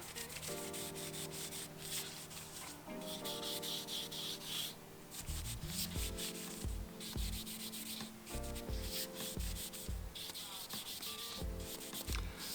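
Cloth rubbing finish into the wooden parts of an antique 1927 Hercules Speed King racing bicycle, producing close, continuous scrubbing strokes in a steady back-and-forth rhythm with no voices.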